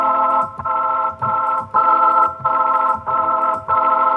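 Rotary speaker effect from a Universal Audio Waterfall, captured with a condenser microphone, probably a 414, on a sustained harmonic keyboard tone that swells and dips in a steady rhythm, repeating about every 0.6 seconds, clear and alone.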